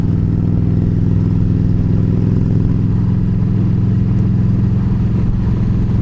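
A motorcycle rides along the road on the way to work, with a loud, steady, low engine drone and continuous wind rumble throughout.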